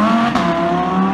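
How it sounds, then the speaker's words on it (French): Yellow matte Audi R8 accelerating, a steady close engine drone with a brief surge of revs partway through, loud and continuous over about a second. "Et juste derrière, ce que vous entendez, c'est une Audi R8"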